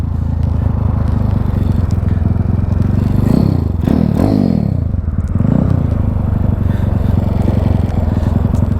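A Honda C50 motorcycle engine runs nearby with a steady drone, broken midway by a few uneven splutters and brief pitch swoops as the throttle is partly opened, then settles back to an even run.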